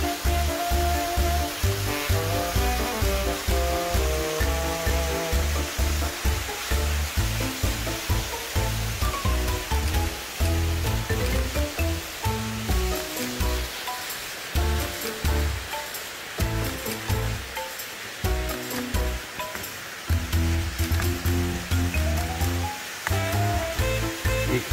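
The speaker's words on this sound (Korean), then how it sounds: "물소리가 아주 요란하네. 폭포니까." Deungseon Falls on Samaksan in Chuncheon roars with rushing water and a flowing stream below, a loud, dense, unbroken wash of sound filling the whole span without voices.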